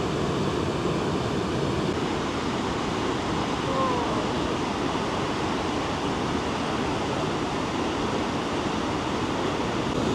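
Petrohué waterfalls in Chile roar as a constant broadband rush of heavy water, steady and unbroken throughout, loud and enveloping with no talk over it.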